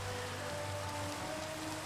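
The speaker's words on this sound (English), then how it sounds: "oh, it's raining. It's raining" Steady rain falling in the Minecraft video game, a constant hiss of drops hitting surfaces that stays even and unbroken throughout, with no voices.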